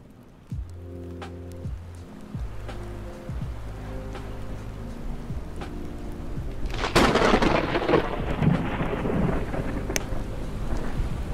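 Thunderstorm weather effect in an indie video game: rolling thunder rumbles repeat in low, pulsing bursts over steady rain, then a loud crack of thunder breaks and the rain swells into a heavier roar to the end.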